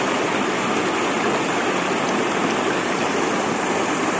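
A river at the confluence of Kali Lampir and Kali Terong flows steadily, its broadband rushing water holding close, loud and constant with no voices.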